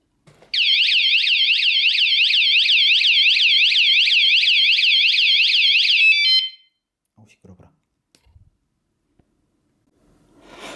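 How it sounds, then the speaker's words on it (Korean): A loud electronic alarm from a bicycle anti-theft device warbles rapidly up and down for about six seconds, then stops abruptly, followed by faint clicks and handling noises. "알람 테스트"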